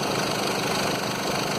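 2011 Mercedes-Benz Sprinter 313 engine running with a seized alternator pulley, a steady close mechanical drone with a fine rapid rattling texture, constant and alone.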